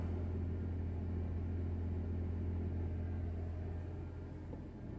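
Car engine running just after starting following nearly two weeks parked, a steady low hum and rumble that holds close and even before easing slightly at the end.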